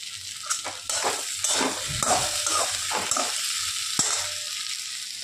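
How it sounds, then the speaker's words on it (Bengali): Potatoes frying in a pan of hot oil as a base for Bengali fish curry, a steady bubbling sizzle with occasional scrapes and stirs of a utensil against the pan, no talk. "মাছের ঝোলের জন্য আলুগুলো ভাজছি"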